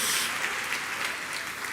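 Church congregation applauding for the Lord during a service, a brief dense wash of clapping heard alone and fairly distant.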